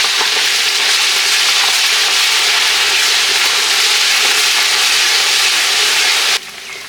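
Onions frying with ginger garlic paste in a pan, a loud, steady hiss and crackle that runs continuously before dropping away abruptly near the end.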